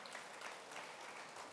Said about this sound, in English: Come, let's give him another round of applause